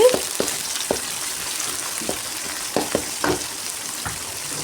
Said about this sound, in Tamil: தக்காளியும் போட்டுட்டு நல்லா வதங்கணும்